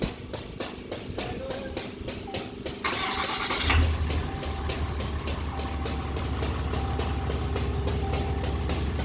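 A truck with a 68RFE transmission cranks and its engine catches and settles into a loud, steady idle, preceded by a rapid series of rhythmic clicks or beeps, close by with no talking.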